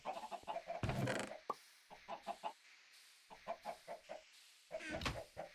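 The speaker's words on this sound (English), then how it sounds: "So we do have just about all the chickens we could want in that little block right there." Minecraft chickens cluck in short repeated bursts, some overlapping, penned in a small block on a modded skyblock map, fairly quiet with brief pauses between groups.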